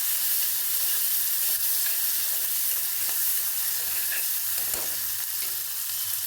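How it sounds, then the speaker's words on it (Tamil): Chopped tomato, green chilies and curry leaves sauté in a hot pan for protein upma, giving a steady close sizzle with occasional stirring scrapes and soft taps, and no one speaking. "தக்காளி, பச்சை மிளகா, எவ்வளோ காரம் வேணுமோ பச்சை மிளகா, கருவேப்பிலை, இது எல்லாத்தையும் போட்டு ஒரு நல்லா வதக்கிடலாம்"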